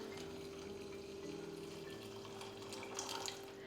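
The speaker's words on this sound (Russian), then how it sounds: "А затем наши яркие овощи заливаем горячей водой" Hot water pours in a steady stream into a soup pot of chopped vegetables, a faint continuous splashing flow that rises slightly toward the end.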